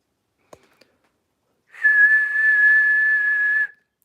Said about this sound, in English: Oh, I whistled. He responds to whistling.